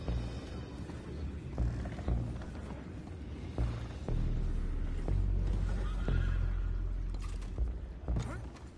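Horses in the Red Dead Redemption 2 video game neigh and whinny amid creaking, clanking mechanical noises and scattered impacts, the calls rising loudly over a busy game soundscape.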